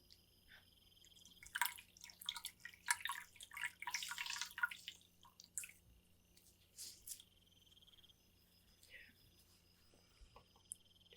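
Water from a stream drips and splashes softly while someone is being gently cleaned up, with bursts of wet trickling early on and faint drips later, under quiet whispered talk.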